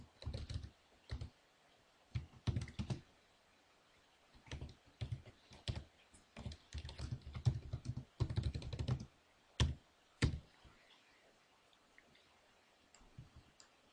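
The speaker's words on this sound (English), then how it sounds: "start typing in our information from our table" Computer keyboard typing while entering table information into a drawing program, bursts of quick close keystrokes with short pauses between groups, a few isolated louder clicks near the end, no voices.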